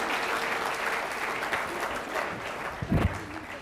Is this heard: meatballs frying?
no